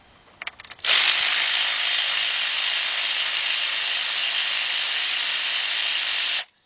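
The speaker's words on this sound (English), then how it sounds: "Go to Harbor Freight, get you a cordless impact ratchet" A cordless 3/8-inch impact ratchet spins steadily and loudly for about six seconds after a few light clicks, working on a Ford F-250 Super Duty pickup, then stops abruptly.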